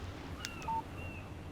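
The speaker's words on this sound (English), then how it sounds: "Text message from Barry." Phone text message alert in the Alan Wake video game: a short electronic chirp with a brief clear beep right after it, over a low steady ambient background.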